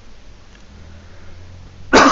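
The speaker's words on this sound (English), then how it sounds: "Sorry about this cough." A single sharp cough bursts out near the end, loud and close, after a stretch of quiet room tone.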